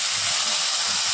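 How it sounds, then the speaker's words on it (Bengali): Fenugreek, radhuni and dried chilli sizzle in hot oil as a tempering for bitter dal, a steady close hiss that runs evenly through the whole short moment with no talk. "আপনার মেথি, রাঁধুনি, শুকনো লঙ্কা ফোড়ন দিচ্ছি"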